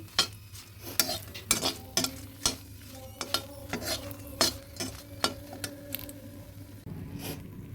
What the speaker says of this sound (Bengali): ভালোভাবে ভেজে নিচ্ছি